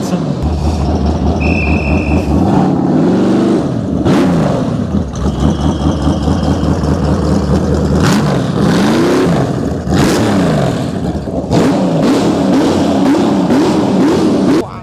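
A loud engine of a Dakar-style rally car revs repeatedly at an outdoor car show, rising and falling in pitch, with a heavy rumbling drone throughout and no talking.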